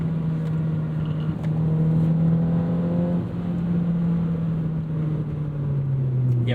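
A 2009 Honda Fit's engine pulls hard near 5,500 rpm into its VTEC range, a loud, steady droning note that holds and wavers slightly throughout, heard from inside the cabin.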